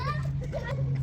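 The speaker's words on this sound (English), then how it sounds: "Sorry about the background noise, kids playing outside." Children's voices chatter and call out in the background over a steady low hum.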